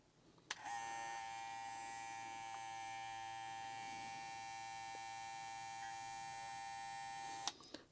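A BaByliss FX One hair clipper switches on with a click, runs at a steady high-pitched whine with a faint hum for about seven seconds, then clicks off, close and alone.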